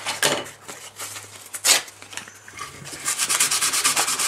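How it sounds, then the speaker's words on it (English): A birch bark hip flask is sanded by hand, with steady rubbing strokes, some in quick bursts, close and moderately loud with no talking. "set about sanding this"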